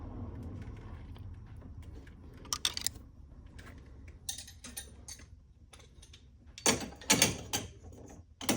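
A ratchet tightens a bolt on a 6.7 Cummins engine during a valve lash adjustment, giving quiet clicking bursts and a few sharper clustered clicks near the end.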